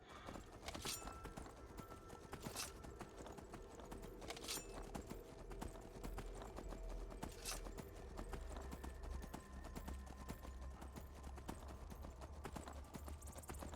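Horse hooves clip-clop at a steady riding pace in Skyrim, a rhythmic, moderately close trot that continues for the whole stretch over faint game ambience, with no speech.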